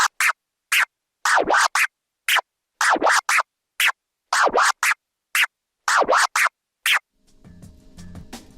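A longer sequence of rhythmic turntable scratches, fast baby and stab strokes repeating in a rolling combo pattern, ending in a short noisy tail.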